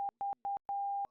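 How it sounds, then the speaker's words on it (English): Hidden coded tones resembling Morse code sound as a series of pure, even beeps: three short ones in a steady rhythm, then one longer tone, all loud and clean with silent gaps between. "there's also a hidden code in this audio. This time it sounds a lot like Morse code."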